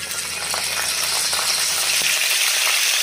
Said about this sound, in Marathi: राई जिरं टाकते, कढीपत्ता